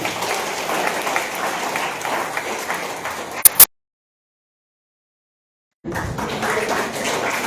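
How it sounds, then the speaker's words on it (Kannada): Audience applause in a hall at a college Kannada Rajyotsava celebration in Mysuru: sustained crowd clapping, cut by a few seconds of dead silence, then resuming. "ಅವರ ಒಂದು ಉದಾರತೆಗೆ ಒಂದು ಮೆಚ್ಚುಗೆಯನ್ನ ಚಪ್ಪಾಳೆ ಮೂಲಕ ಕೊಡಬೇಕು ಅಂತ ಕೇಳ್ಕೊಳ್ತೀನಿ"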